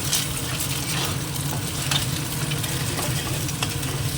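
Two eggs frying in a pan for a home tiffin, a steady close sizzle with soft scraping and stirring noises running throughout.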